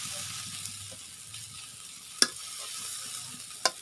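Vermicelli (semai) frying in a pan, nearly cooked and dry, is stirred over a soft steady sizzle, with two sharp scraping clinks of the spoon against the pan.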